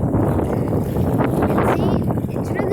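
Strong wind buffets the microphone at Lake Murray, a steady loud broadband rumble that fills the whole moment with constant gusting noise.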